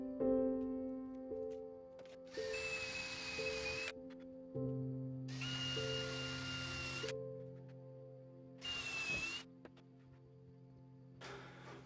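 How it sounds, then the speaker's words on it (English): A power drill whines in three or four separate bursts while drilling pilot holes in wood, each a few seconds long and rising in pitch, with a steady low hum between them. "just got to measure and drill some holes"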